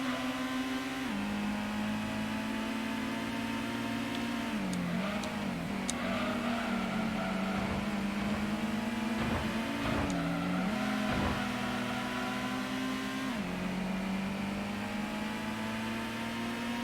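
Engine of a car racing a Toyota MR2 in Gran Turismo 1 drones and revs continuously, pitch dipping at gear changes and climbing again as it accelerates, loud and steady throughout.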